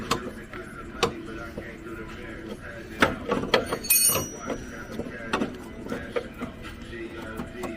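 Work on the front struts of a 1997 Lexus LS 400 Coach Edition: scattered metallic clicks and ratcheting as bolts are tightened, with a few sharper clanks around the middle, close by in a garage.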